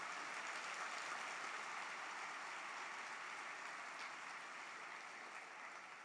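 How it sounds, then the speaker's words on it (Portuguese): A church congregation applauds, a faint, even wash of clapping that stays steady from start to finish, with no speech over it. "Você podia dar o melhor aplauso que você tem a Jesus Cristo"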